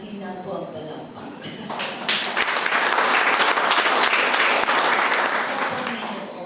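Church congregation clapping at a Sunday service, a dense wash of applause that swells after a couple of seconds, holds steady and loud, then begins to thin toward the end, with no one speaking over it.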